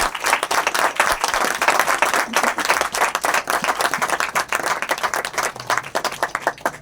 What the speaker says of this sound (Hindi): हम इन नए लोगों के लिए जोरदार तालियां बजाएं